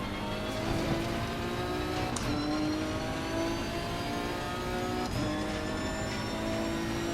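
Race car engine in Assetto Corsa Competizione, a steady, droning whine at constant pitch with faint shifting tones and two brief clicks, heard continuously without speech.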